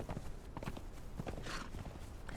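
Horse hooves clopping in quick, uneven footfalls while riding in Conan Exiles on the Isle of Siptah, at moderate level under steady game ambience with a brief brighter burst partway through.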